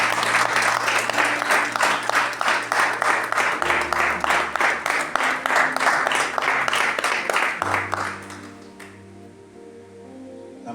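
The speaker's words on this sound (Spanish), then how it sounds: "¿Cuántos pueden dar un aplauso grande a nuestro Dios?" A church congregation claps loudly and steadily at a Good Friday-style service, a dense burst of applause that fills the room before tapering off, with sustained organ or keyboard chords ringing underneath and continuing after the clapping fades.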